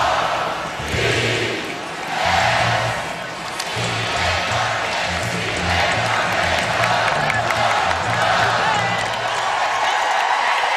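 A packed basketball arena crowd of about 12,614 roars and cheers continuously after a Louisville Cardinals women's win over Notre Dame in 2018. Low, rhythmic band music pulses beneath the broad wash of crowd noise.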